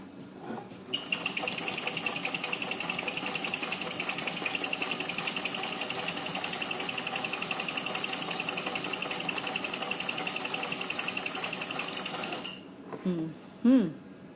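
A sewing machine hemming striped fabric runs in one long, steady, loud mechanical whir for about twelve seconds, then stops abruptly, followed by a brief voice.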